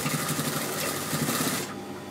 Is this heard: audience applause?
no